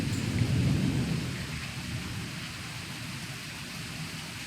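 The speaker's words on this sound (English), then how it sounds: "All of this flashing is lightning and thunder." A thunderstorm with pouring rain: a low roll of thunder swells early, then fades into a soft, steady hiss of rainfall, heard at a distance and fairly quiet throughout.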